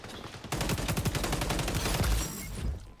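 Rapid automatic fire from an ACR rifle in the shooter game XDefiant, a loud unbroken burst of closely spaced shots lasting about two seconds and followed by a few scattered pops.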